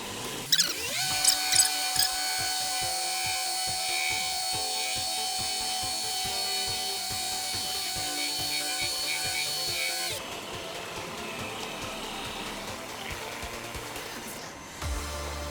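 A Flex machine polisher correcting car paint runs with a smooth, steady motor hum and whine, its tone shifting partway through as the pad works the surface, with some light rubbing noise.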